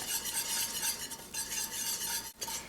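A whisk beats a whole wheat flour roux in a pan, a steady, close scraping swirl that runs continuously with a faint sizzle underneath.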